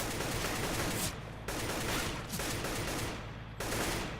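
Gunfire in Counter-Strike: Global Offensive, dense bursts of rapid automatic shots in several volleys separated by brief pauses, loud and close.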